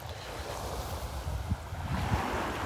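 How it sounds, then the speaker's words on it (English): Strong east wind blows across a beach on the Gulf of Mexico in North Naples, Florida, a constant broadband rush of wind and microphone buffeting over the low wash of surf knocked down by the offshore breeze. "Boy, the wind is really blowing."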